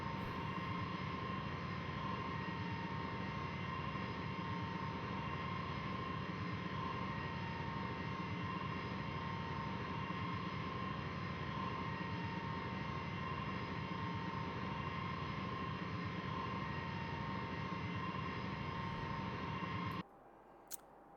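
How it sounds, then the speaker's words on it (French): A Tupolev Tu-154M B2 airliner lands as a steady, broad engine roar with a constant whine, heard from inside at a moderate, unchanging level until it cuts off near the end. "vous avez vu la phase atterrissage du Tupolev 154M dans sa version B2"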